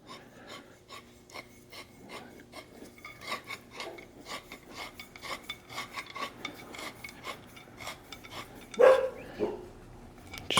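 A traction bar adjuster is screwed into place on a boosted GMC truck, giving close, steady scraping and rasping threads in a quiet, continuous rhythm, ending in a couple of louder metallic knocks.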